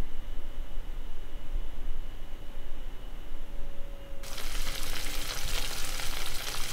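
Veal shank sears for osso buco in a Cookeo pot, making a dense, steady frying hiss that grows sharply louder and brighter partway through, as if the lid opened or the meat was turned. Nobody speaks.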